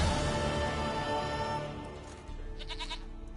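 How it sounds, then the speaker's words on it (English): A goat in The Witcher 3 bleats in a short series of wavering cries near the end, following a dense stretch of game ambience and music at the start. "Goat of mine, dearest, sweetest goat."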